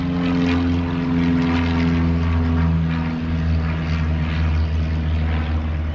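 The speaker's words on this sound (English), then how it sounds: "Nice airplane up there." A propeller airplane drones overhead, a loud steady low-pitched buzz that holds throughout without fading.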